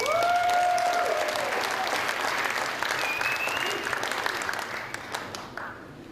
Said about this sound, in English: So one more round of applause for you guys.